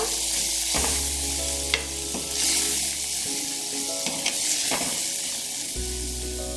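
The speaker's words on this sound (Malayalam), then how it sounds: "നന്നായി ഇളക്കി കൊടുക്കുക" Ground pepper, turmeric and coriander powder stirred into rasam in a pan, a continuous sizzle with repeated spoon scrapes and a few knocks against the vessel, close and alone.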